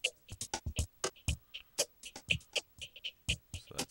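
Vocoder loop effect built in Reason 5 with oscillator envelope modulation, a choppy, rhythmic stream of short, bright bursts in quick succession, fairly faint and alone.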